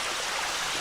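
Small waterfalls tumbling along a rocky creek with no path, heard as a steady broadband rush of flowing water, close and continuous for under a second with no voices.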